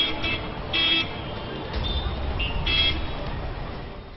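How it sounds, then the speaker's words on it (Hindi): Busy city road traffic with a steady low rumble of engines and several short car horn toots sounding at intervals, moderately near, with no one speaking. "कहीं भी चले जाइए, ट्रैफिक नॉइज से मुक्ति नहीं।"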